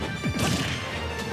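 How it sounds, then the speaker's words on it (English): A heavy smash impact from Captain Falcon's forward smash in Super Smash Bros lands as one loud crunching hit, with a short whoosh and a brief trailing crash, set against steady game background noise. "And there's the forward smash."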